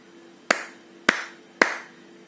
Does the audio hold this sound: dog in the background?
no